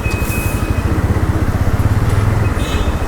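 A Bajaj Pulsar NS160 motorcycle is ridden, its engine giving a steady, throbbing pulse beneath constant wind rush, heard loud and close from the rider's position.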